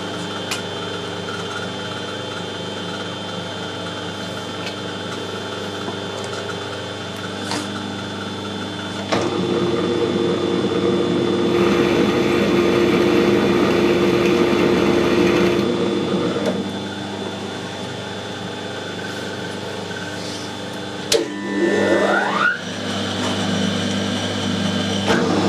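Metal lathe with a clutch cutting a screw thread on the compound slide, cutting oil applied: a steady motor hum and drone that grows louder midway, with a brief clatter near the end.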